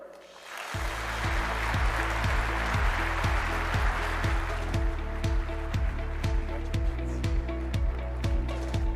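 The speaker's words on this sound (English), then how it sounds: "Let's have one more round of applause for our award recipients" Audience applause for a Sidney Fernbach Award recipient at the SC23 conference opening session, a dense, steady clapping that starts suddenly and carries on under a rhythmic music track, with no talking.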